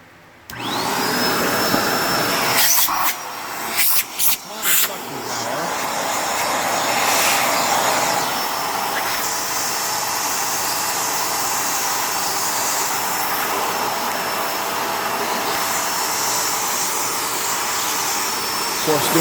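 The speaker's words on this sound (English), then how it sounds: "We're going to quickly vacuum up this hair." A Bissell Pet Hair Eraser Turbo vacuum cleaner picking up pet hair, a loud steady motor whine with a high tone that runs near and continuous, after a few brief bumps and interruptions at the start.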